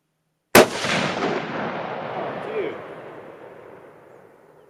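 A single loud rifle shot from a Remington 700 Long Range chambered in 300 Remington Ultra Magnum and fitted with a muzzle brake cracks outdoors after a silent moment, then rolls away in a long fading echo.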